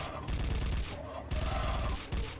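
Silenced MP submachine gun in the game UNLOVED, firing three short bursts of muffled, rapid shots with brief pauses between them, close and fairly quiet.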